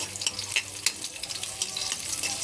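Ingredients frying in hot oil in a wok, a steady crackling sizzle with scattered sharp pops and light stirring clatter, close and moderately loud throughout.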